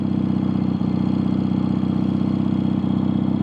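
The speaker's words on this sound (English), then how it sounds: "We're going to monitor the idle." A 1982 Yamaha XS650SJ motorcycle engine idles steadily, a close, loud, even low-pitched throb with a regular firing pulse and no voices.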